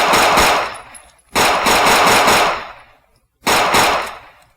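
Whitney Wowerine compensated gun from a Fallout 4 mod fires in three long, loud bursts of rapid automatic fire, each rattling for about a second before a short gap, close and dry with no voices.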